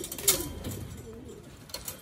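Racing pigeons coo softly at the loft after a road training flight, a few low throaty coos close by with faint rustling and a light sharp tap, no speech.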